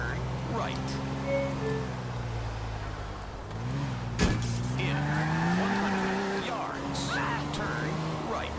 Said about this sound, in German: Ich fahre gerade im Kreis